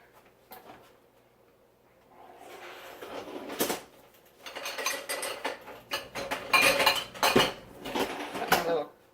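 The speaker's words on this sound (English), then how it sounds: "Got my little Tupperware scooper." Plastic Tupperware scooper clinking and scraping against dishes while filling egg bite molds for Instant Pot steamed egg bites, a run of close, irregular clatters and taps that grows busier partway through.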